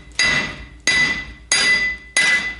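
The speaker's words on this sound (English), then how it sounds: "if you tap on it with a hammer" Four sharp metallic hammer taps on a Dodge Ram 1500 wheel hub, evenly spaced with ringing tones decaying between strikes, close and loud with no talk.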